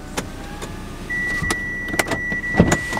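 A car engine runs steadily outdoors while the vehicle waits at a shop to collect a Kolibri KM330 inflatable boat. A thin electric whine comes in partway through, with a few sharp clicks and knocks over the hum.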